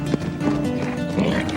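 Horses move about on private property in a dramatized countryside scene, a few soft hoof clops and shuffles mixed into dense ambient noise and faint voices.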